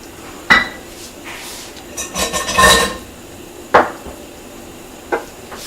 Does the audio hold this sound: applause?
no